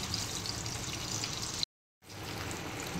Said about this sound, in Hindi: हम इन चिकन के पीसेस को 5 to 6 minutes तक फ्राई करेंगे।